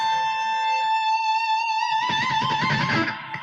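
Sustained electric guitar note that breaks into a wide, fast vibrato about two seconds in, growing harsh and screaming while fading toward the end; heard alone, no talk.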